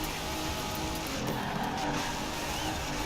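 In the video game Forza Horizon 4, a Lamborghini race car's tires squeal through a corner during a GTLM championship race, with a loud continuous screech layered over engine roar.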